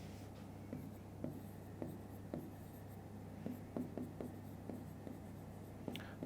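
A pen scratches steadily across paper while an angle equation is written by hand, with light rhythmic strokes and taps, close and fairly quiet against a low steady hum.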